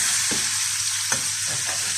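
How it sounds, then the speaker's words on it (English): Steaks frying in butter in a pan while being basted, a loud close steady sizzle with a few spoon scrapes against the pan, no voices. "turn them over, allowing the butter to go underneath them"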